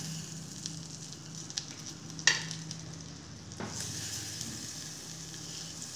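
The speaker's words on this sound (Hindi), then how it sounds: "बटर को मेल्ट होने दें।" Butter melting over low heat in a hot pan for a creamy garlic sauce, a soft, quiet sizzle with a couple of sharp utensil taps and no voices.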